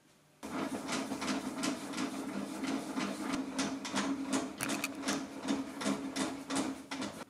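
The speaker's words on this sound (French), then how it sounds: "on lève la lame, il suffit simplement de tourner la manivelle" Lidl Parkside PKTS 2000 table saw with its blade height crank being turned, giving a steady run of close, rapid mechanical clicks and ratcheting ticks over a constant low hum.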